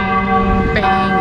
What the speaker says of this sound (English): We're walking around a bit here in the village now, and the church is ringing.